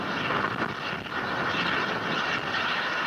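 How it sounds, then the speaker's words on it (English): An H2A rocket carrying the XRISM and SLIM missions, about a minute after launch from Tanegashima, climbing over the Pacific: a steady, dense roar that holds without a break, with no voices over it. "The H2A is now flying above the Pacific Ocean to the east."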